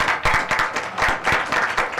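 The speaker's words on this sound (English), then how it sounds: "Allow applause for our student," Applause from the audience at a petroleum engineering society's monthly technical meeting in Thailand, greeting the student members: a short burst of dense, steady clapping from a roomful of people.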